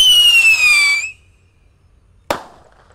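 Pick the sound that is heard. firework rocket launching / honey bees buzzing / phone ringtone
firework rocket launching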